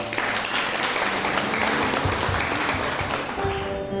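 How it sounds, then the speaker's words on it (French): A church congregation applauds the youth during a service, a loud continuous wash of clapping with faint held tones underneath throughout. "Applaudissez pour nous la jeunesse."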